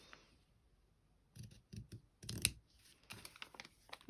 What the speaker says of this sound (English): I'm thinking if I just snip into the corners like this.